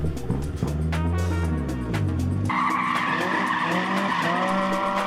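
A Toyota AE86 drifting at Meihan Sportsland's Ecourse, tires skidding in a long continuous squeal over a revving engine that shifts pitch midway, close and loud with no voices.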